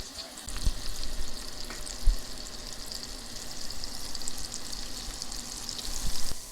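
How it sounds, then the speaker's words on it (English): Butter melts and sizzles in a saucepan while an Alfredo sauce is started, a steady close frying crackle with occasional small pops and clinks, no voices. "I got a 1/4 of a stick of butter that I'm going to put here in this saucepan."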